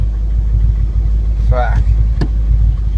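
A race car engine runs steadily at low rumble throughout, with a person talking briefly over it and a sharp knock near the end.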